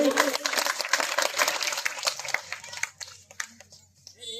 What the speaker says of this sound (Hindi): उसके लिए एक बार ताली आप लोग बजाइए जो नारी।